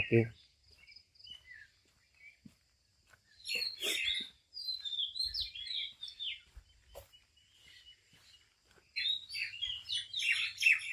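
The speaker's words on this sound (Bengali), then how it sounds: "পাখিগুলোর আওয়াজ Q Q Q Q Q Q করে" Birds chirp and tweet in short bursts outdoors in a cool, quiet setting near the Tetulia dak bungalow, with a soft insect drone underneath. Brief gaps separate the calls, and there is faint low rumble.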